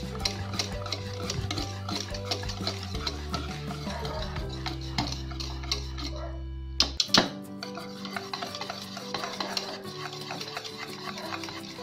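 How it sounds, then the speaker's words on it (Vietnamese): A spoon stirs rice flour and coconut milk batter in a pot while making Nagasari banana cake. The stirring gives quiet, close scraping and swishing, with one sharper clink against the pot midway. "Mình sẽ khuấy đều cho tới khi phần bột của mình nó chín."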